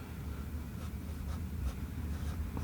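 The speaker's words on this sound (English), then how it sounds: "Okay, so we'll write this down." Pen or marker writing paint colour names onto a palette study card, a steady soft scratching across the whole stretch at close range, with no talk.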